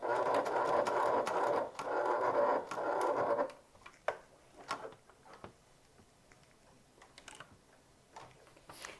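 A sewing machine back stitches a top-handle bag, running in a fast, steady whir for a few seconds before stopping, followed by quiet ticks and small handling clicks.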